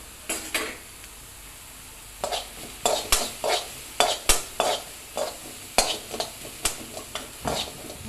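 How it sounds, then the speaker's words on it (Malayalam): Onions with a pinch of salt stirred in a pan for kothu chapathi, rhythmic spatula scrapes and clacks against the metal repeating every half second or so over a low sizzle, close and without talk. "നന്നായിട്ട് ഇളക്കി കൊടുക്കാം."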